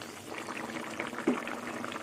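A curry sauce with potatoes for a raw-banana and mung-dal kofta simmers in a pot, giving a soft, continuous bubbling burble up close with one slightly louder pop.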